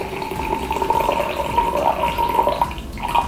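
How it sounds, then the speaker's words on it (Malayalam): Strained homemade ginger water, boiled down for a dry-cough drink, poured into a glass: a steady, close trickle of liquid running for a few seconds with faint splashing and no talk. "നമ്മൾ തയ്യാറാക്കിയ വെള്ളം ഗ്ലാസ്സിലേക്ക് ഒഴിക്കാം."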